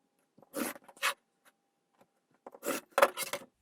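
Quilt fabric being cut into strips, two short pairs of close, crisp slicing swipes separated by a quiet pause, no speech.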